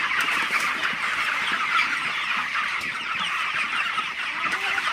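Broiler chickens on a Bengali poultry farm clucking after being fed, a dense, continuous chorus of many birds close by and filling the space, with no talking.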